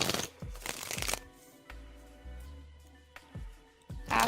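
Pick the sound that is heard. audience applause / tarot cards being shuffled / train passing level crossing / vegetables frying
tarot cards being shuffled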